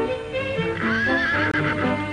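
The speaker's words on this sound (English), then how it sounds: "Besides cows, we have a horse and a pony." A horse on a farm gives one loud, close whinny rising and wavering before fading, with a brief clop of hooves.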